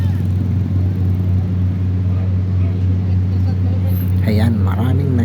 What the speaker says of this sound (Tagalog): yung isa na yon ay dumating yung isang motor diesel